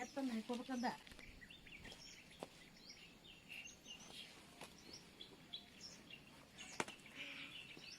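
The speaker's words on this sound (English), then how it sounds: "Let me be silent so that you can actually hear the birds chirping." Birds chirping along a foggy hill trek near Skandagiri, scattered short tweets near and far over quiet outdoor background, with a brief voice at the start.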